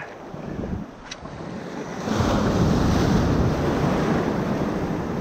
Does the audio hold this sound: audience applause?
no